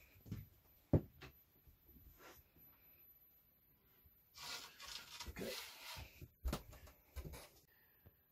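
Wooden removable shelf being fitted into a motorhome, with scattered rubbing, scraping and knocking of wood against the existing shelf, louder bursts of friction midway and sharp knocks near the end.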